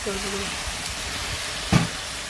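Fried prawns and water go into a pan already sizzling with chili and turmeric powder for a bamboo shoot curry; a steady hiss runs throughout, with one sharp louder splash about two-thirds through and a faint voice early on.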